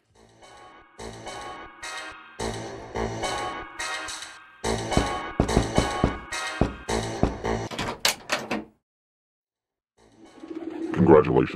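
A carrier pigeon coos in Jazzpunk alongside busy clattering knocks and bursts of game noise, then a brief silence before low burbling returns near the end; a voice talks through part of it.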